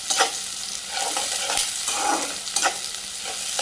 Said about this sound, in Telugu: ఇప్పుడు దీన్ని ఈ ఉల్లిగడ్డలు ఫ్రై కొంచెం మంచిగా సిమ్లో ఫ్రై అయితే బాగుంటుంది